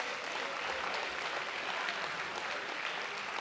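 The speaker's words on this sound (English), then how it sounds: "So give yourselves a round of applause." Audience at an evening event clapping, a dense, even wash of applause from a crowd that holds steady throughout, somewhat distant and with no voices on top.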